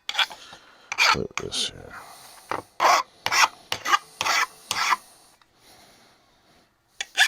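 Metal edges of a bandsaw bracket being deburred by hand, a series of short rasping scrapes in uneven bursts, close and fairly loud, with a brief spoken remark and quiet gaps between strokes.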